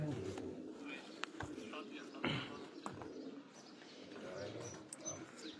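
Silver pigeons coo faintly on a rooftop, soft repeated calls mixed with chirps and occasional flaps while people talk nearby.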